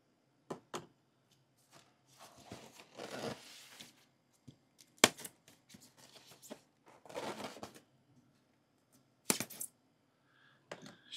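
Packing tape is peeled and torn off a Super 7 TMNT Pizza Party Wagon toy box in short bursts of ripping and crackling between quiet pauses, close by and with no talk.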